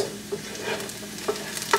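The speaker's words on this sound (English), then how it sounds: "So what I'm doing with the onions, I'm just letting them simmer" Onions simmering in a pan, stirred now and then, giving a soft steady sizzle with a few brief scraping strokes of the utensil; close and fairly quiet, with no voices.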